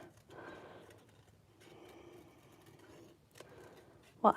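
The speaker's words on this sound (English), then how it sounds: "I'm gonna do a little quick fussy cut" Scissors fussy cutting around a small paper piece for a card-stock treat box craft: quiet, irregular snipping and paper rustle in a few close bursts, ending with a louder bump.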